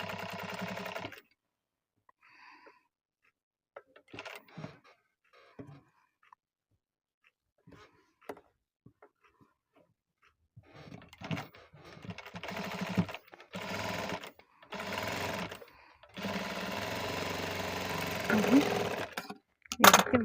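Sewing machine stitching fabric for a fish-cut hand border design, short bursts of mechanical whirring broken by pauses, with longer, denser runs toward the end and a person talking between stitches.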